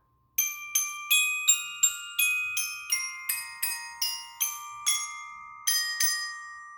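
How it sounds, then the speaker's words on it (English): Orchestra bells struck with two mallets at once in double stops, about a dozen bright metallic strikes in a steady rhythm with ringing overtones, close and clean with no voices. "you can do double stops, which are using two mallets at the same time"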